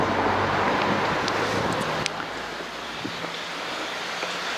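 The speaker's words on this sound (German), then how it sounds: "Hier an der Seite fließt so ein kleines Bächlein." Small brook running beside a wooded hiking trail in the Saxon Switzerland sandstone hills, a steady broad rush of flowing water that fills the scene, with a few faint knocks and rustles on top.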